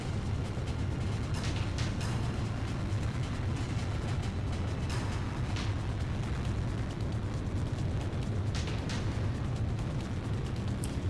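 A fuel-air explosive bomb detonates in the Ace Combat Zero air-combat game, a loud, sustained low roar and rumble with scattered crackling bursts rolling on for over ten seconds.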